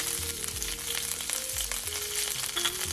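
Curry leaves and urad dal sizzling in hot oil for a Kerala pumpkin and bean erissery, a steady crackling fry with bursts of spitting and stirring throughout, no voices.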